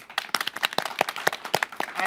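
One person clapping along in a small studio: a quick, fairly even run of sharp, close hand claps lasting a couple of seconds.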